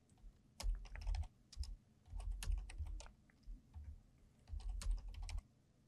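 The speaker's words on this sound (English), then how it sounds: "Here, I'm typing function in some cells." Keys clatter in quick bursts of typing on a computer keyboard, with short pauses between runs, close and fairly quiet.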